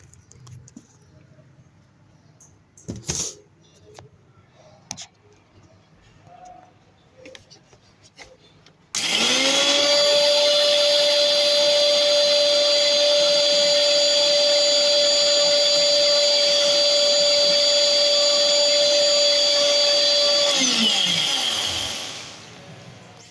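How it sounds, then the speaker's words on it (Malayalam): Kitchen mixer grinder blending ragi with a little coconut, a loud, steady high-pitched motor whine running close for about twelve seconds before winding down, preceded by a few soft clicks and handling knocks. "ഇത് 2 3 ഇട്ട് മിക്സിയിലടിക്കണം"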